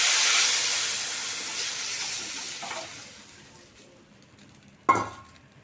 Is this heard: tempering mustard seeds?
yes